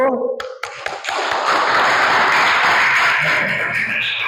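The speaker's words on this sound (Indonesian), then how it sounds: "tepuk tangan untuk kelompok satu" Classroom applause for a student group in a vocational networking class, starting after a brief pause and swelling into a loud, dense, continuous clapping from many hands close by, with a few scattered voices.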